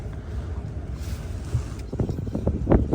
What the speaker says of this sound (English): 19 degrees and 25 mile an hour wind